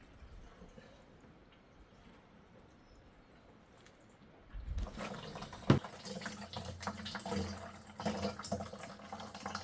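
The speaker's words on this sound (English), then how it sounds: "It's got a slight brownish color, so it's good that we're draining it." Old brownish coolant drains from a Ford 6610 tractor, a quiet trickle that swells into a louder, steady splashing flow of liquid into a container partway through, close by with no talk.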